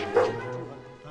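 A dog barks in a 2003 Peter Pan film scene, a single sharp yip or bark near the start over busy film soundtrack background, fairly faint overall.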